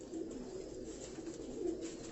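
Pigeons kept by a champion pigeon fancier in Karachi coo in soft, low, repeated calls, close by and moderately quiet over a faint background hum.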